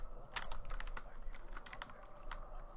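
Rapid computer keyboard typing while playing Black Ops II zombies, irregular clusters of crisp key clicks close to the mic over a low steady hum, no talking.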